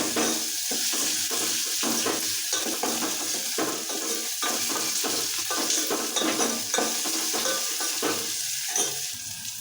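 Tomato and onion fry in oil for dal methi, giving a steady sizzle broken by repeated scraping strokes of a spoon stirring the pan, heard up close with no talking.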